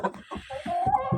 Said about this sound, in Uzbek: Mana shu xo'rozdan obunachilar